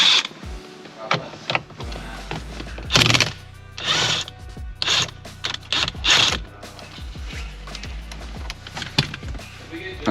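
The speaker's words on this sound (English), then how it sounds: "it's a 19mm bolt. I'm gonna be hitting it with the impact gun" Impact gun loosening a 19mm steering wheel bolt on a G37/370Z, with several loud, close bursts of rattling hammering separated by short pauses and mechanical clicks.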